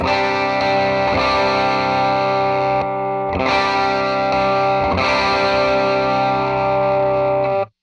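An electric guitar on the bridge pickup, pushed through a boost pedal for extra gain, plays sustained distorted chords that ring out loud and close, with a few re-struck chords and a brief drop near the end.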